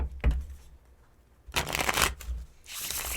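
Tarot cards shuffled during a reading, with one short riffle near the start and then two longer, loud bursts of rapid papery flutter, alone with no talk.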